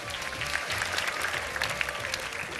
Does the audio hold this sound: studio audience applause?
yes